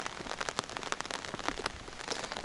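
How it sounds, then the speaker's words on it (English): Steady rain falls on a rainy morning in Dharamshala, a dense continuous patter of drops striking surfaces nearby with crackling individual hits, heard alone without voices. "It's still raining, man."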